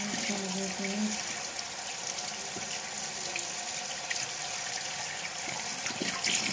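Tap water runs steadily into a sink as hands and face are washed, a continuous broadband splash holding at an even level throughout, with faint voices briefly in the background.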